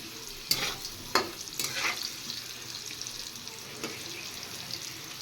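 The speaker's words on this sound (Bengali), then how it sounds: "আলু ভাজা হয়ে গেছে এবার আমি আলুগুলো নামিয়ে নেব" Potatoes fry in a pan of oil with a soft steady sizzle, broken by a few sharp clinks and scrapes of stirring, heard close and fairly quiet.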